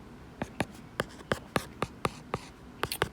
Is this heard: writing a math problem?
yes